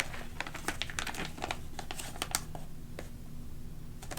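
A cardboard box slid across a surface and folded over, giving a steady run of close crinkling and scraping rustles with sharp crackles throughout, no voices.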